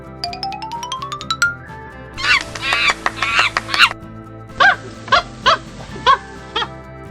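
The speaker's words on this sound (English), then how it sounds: "Yay! It's a monkey." A monkey gives rapid chattering calls in two bursts, the second a string of separate shrill hoots, after a short rising chime.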